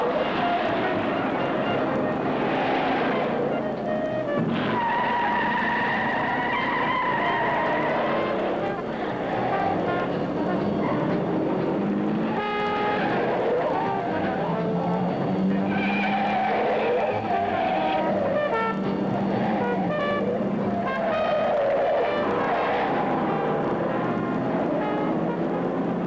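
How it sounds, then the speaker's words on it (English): Race cars from a 1950s hot rod race braking hard and skidding as they come off a dirt section into a hairpin turn, with continuous engine roar and tire noise under music-like tones and no speech. "Arnie Crawford's having to use his brakes very hard."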